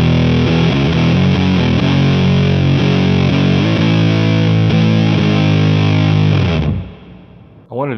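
A heavily distorted electric guitar through a JPTR FX Warlow pedal, gain turned full up, plays a dense, buzzing chord passage with fast rhythmic strums, then cuts off into fading noise and hiss.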